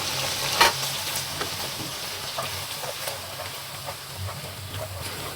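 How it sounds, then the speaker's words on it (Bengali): Finely chopped onion frying in a pan, with chopped ginger and garlic, for vegetable Manchurian: a steady, close sizzle with occasional stirring clicks and no talking. "এবার দিব আমরা অনিয়ন, একদম ফাইনলি চপড অনিয়ন।"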